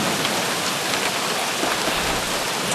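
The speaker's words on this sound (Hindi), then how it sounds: "मैं जहाँ हूँ यहाँ बहुत जोर से बारिश हो रही है।" Heavy rain pours down in a dense, continuous hiss of drops that stays loud and even throughout, with no other sounds.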